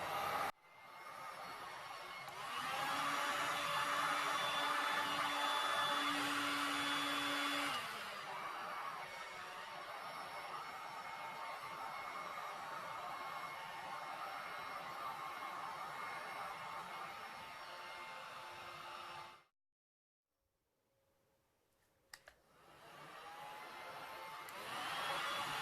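A heat gun blows hot air across a resin flower painting, giving a steady whooshing hiss that swells louder for a few seconds and then holds at a lower, even level. It cuts off abruptly near the end and starts again shortly after.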